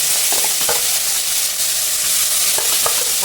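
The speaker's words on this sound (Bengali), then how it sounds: "এরপরে আমি পুঁইমিটুলির তেলেই মাছগুলো" Dried fish fries in hot oil with a loud, dense, continuous sizzle up close, punctuated by occasional clicks and spatters, with no voices.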